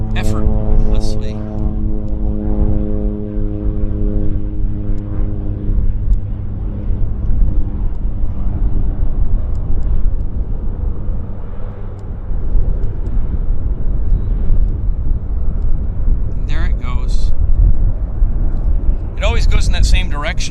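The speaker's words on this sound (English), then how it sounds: "Very short takeoff roll, like now. It glides off the runway effortlessly." Aircraft taking off at Vancouver airport after a very short takeoff roll, a steady loud engine drone with strong low harmonics that lifts off and fades, with brief higher bursts near the end.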